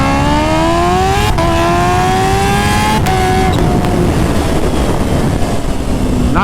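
A stretched, roughly 300 hp Kawasaki H2R supercharged motorcycle pulls hard from 60 to 130 mph. The engine screams loud and close, its pitch climbing steeply through each gear, and brief dips mark the quick shifts.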